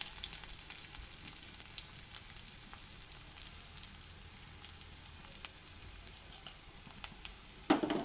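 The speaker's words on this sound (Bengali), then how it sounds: "পেঁয়াজটা একটুখানি ভাজা ভাজা হবে" Onions frying in a pan give a soft, steady sizzle close by with occasional light crackles and a brief clink of stirring near the end, quiet overall and without talk.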